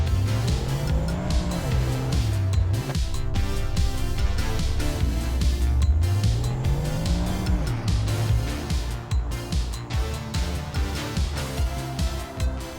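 Bugatti Chiron Super Sport driving at speed in the BeamNG driving game, a loud continuous engine roar rising and falling in pitch through gear changes, with tire noise throughout.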